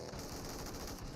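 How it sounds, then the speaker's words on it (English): Dense automatic gunfire in the PUBG Mobile video game during a competitive esports match, a continuous rattling burst of overlapping shots, fairly faint and distant throughout. "it's just raining gunfire"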